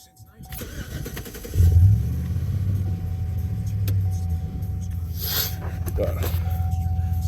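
A car engine with a newly installed NAPA throttle body starts and settles into a high, steady idle around 2,000 RPM. The hum is close and continuous, with someone talking over it.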